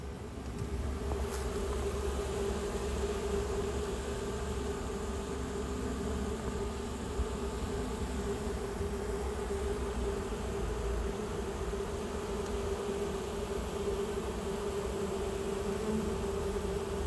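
Honeybees fan their wings at a hive entrance while two colonies are combined, one queenless and one queenright, making a steady, continuous close-up drone with an even hum that holds for the whole stretch.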